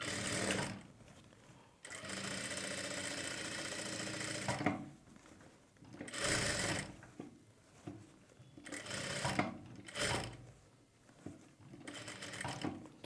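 A sewing machine stitches a blouse neck piece onto another panel in short bursts, its close, steady whirring stopping and restarting several times with brief pauses between runs.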